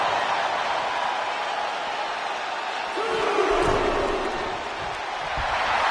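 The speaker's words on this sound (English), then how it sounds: "The sound of this crowd is deafening" A dense wrestling arena crowd at a WWE Elimination Chamber event roars continuously, loud and steady, with a brief sustained tone and some low thuds in the middle of the noise.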